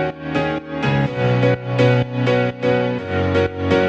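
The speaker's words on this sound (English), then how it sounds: "Then we have the drop piano." A drop piano layer from a production plays alone, bright rhythmic chords pumping in a steady sidechained pattern, loud and up front.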